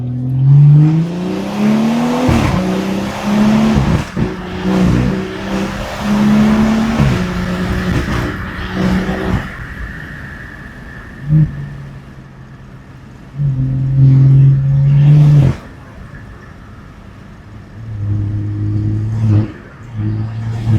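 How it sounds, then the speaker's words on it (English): A BMW 340i engine accelerates hard on a mountain road, revving up through several gears with rising pitches, then easing off and pulling again, loud and close, with no talking. "Man, this thing is fun. Yo, this shit sounds good too."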